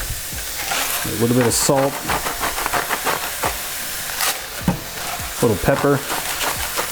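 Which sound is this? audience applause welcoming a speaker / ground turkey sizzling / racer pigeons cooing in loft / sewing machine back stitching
ground turkey sizzling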